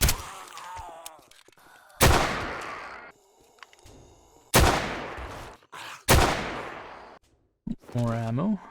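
Several loud, sharp gunshots from 7 Days To Die crack at intervals, each followed by a decaying echo, with brief tonal game sounds between and a short voice-like tone near the end.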